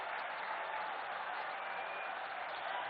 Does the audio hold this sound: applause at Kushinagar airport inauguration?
yes